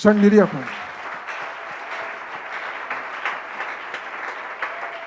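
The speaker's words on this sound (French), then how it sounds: "Acclame un peu, acclame un peu." Church congregation at a French-language sermon breaks into steady applause and cheering, lasting throughout; a voice speaks briefly at the start.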